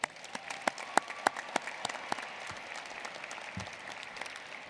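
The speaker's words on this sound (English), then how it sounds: "Please join me in a round of applause." Audience at a high school graduation ceremony applauding, with a burst of sharper individual claps early on that settles into a steady, moderately distant wash of clapping.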